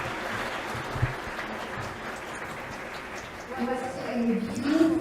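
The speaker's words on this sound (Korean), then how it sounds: "Please give him another big round of applause." Audience applause fills an opening ceremony of a city forum after a musical performance, a steady mid-level patter that swells near the end as a tonal, voice-like sound rises over it.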